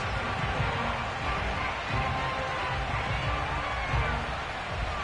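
A football stadium crowd at FedEx Field roars in a broad, sustained wash of cheering just before kickoff, the noise steady and distant-sounding with faint speech mixed in.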